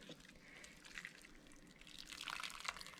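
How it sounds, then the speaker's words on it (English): Homemade bone broth with onion pieces being poured off into a kitchen strainer, a faint soft splashing and trickling of liquid that grows slightly busier toward the end. "So I'm just gonna pour it off into my strainer here"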